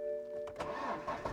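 A BMW E91 that had stood for a long time cranks and fires up after a jump-start, a short quiet burst of starter whir followed by the engine catching.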